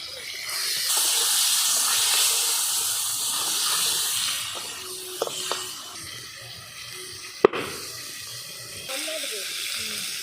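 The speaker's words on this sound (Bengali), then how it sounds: "মাছ ভাজা করে দিন" Steady hissing sizzle of snakehead fish frying in hot oil, with brief clatters of utensils and a sharp click partway through.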